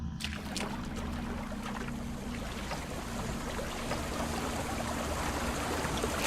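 A waterfall in the video game DDO rushes in a steady, dense wash of flowing water, continuous and fairly loud throughout with no talk over it.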